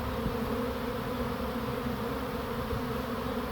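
A massive honeybee swarm moving into a backyard swarm trap drones in a dense, continuous buzz, loud and steady throughout, with no talk.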